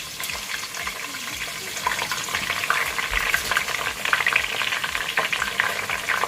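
Chopped onion and blended crayfish frying in a pan for a Nigerian crayfish tomato stew, giving a steady, close sizzle with occasional stirring scrapes throughout.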